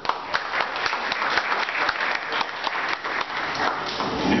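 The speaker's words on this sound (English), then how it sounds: "Please give a huge round of applause once again for this delighted evening." Dense, sustained applause from a large audience fills a university auditorium during a conference evening, steady and loud throughout with no pauses.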